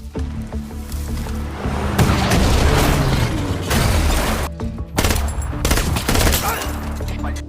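Sustained gunfire and heavy booms in a film action scene with a jungle chase, loud and dense bursts of shots layered over rumbling impacts for the whole stretch.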